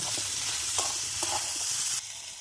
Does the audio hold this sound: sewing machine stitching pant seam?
no